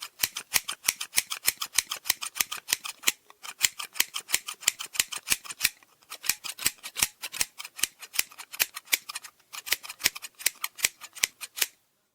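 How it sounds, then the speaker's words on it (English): Rapid, steady snips of scissors cutting hair close by, dozens of crisp metallic cuts in quick bursts with brief pauses between runs. "Every time I hear the sound of my hair being cut"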